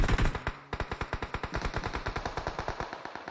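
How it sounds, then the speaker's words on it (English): Dense automatic gunfire in a battle royale video game, rapid bursts crackling close and loud in a steady stream with no pauses and no voices over it. "There's a lot of gunfire."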